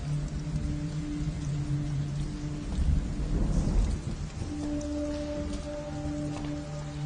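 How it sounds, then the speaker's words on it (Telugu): Heavy rain pours steadily, and a low roll of thunder swells in the middle before fading back into the downpour. "వర్షం ఇప్పుడప్పుడే తగ్గేలా లేదు"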